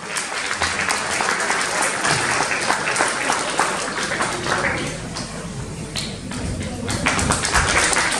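Sustained, dense applause from a school audience at Rokiškis Juozas Tūbelis progymnasium, honouring a pupil who took third place in the district Lithuanian language olympiad for grades 5-8. The clapping stays steady and loud throughout, with faint voices mixed in.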